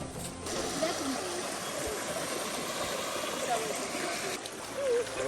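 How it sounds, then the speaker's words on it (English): A river flows out of Ogbunike Cave toward the Inkisa River, a steady, fairly faint rushing of water that stays even throughout. "So we have a river flowing out from the cave here."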